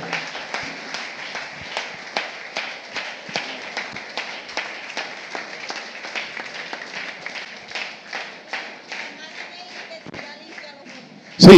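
Rhythmic clapping from a church congregation applauding the Lord at an evening service, a steady regular beat of hand claps, moderately loud, ending in a sudden loud burst.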